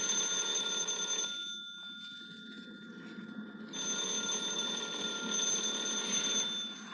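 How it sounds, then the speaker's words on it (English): A telephone bell rings in bursts in an old radio drama, a bright metallic trill that pauses briefly and then resumes, heard alone without voices. "Are you going to answer the phone?"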